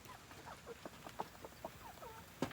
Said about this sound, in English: So we actually do have our chickens in there right now.